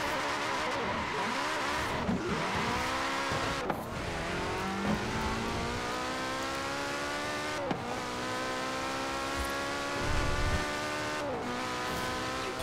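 Fast car in Forza Horizon 4 racing game, engine loud and continuous with repeated revving climbs and gear shifts, brief tire squeals and skids, no talking.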